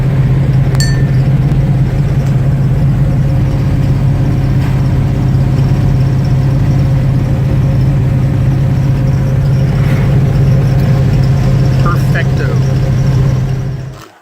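Car cruising at 45 mph with the engine held around 2,000 RPM through 3.42 rear differential gears, a steady low drone with faint rattles and a voice talking over it.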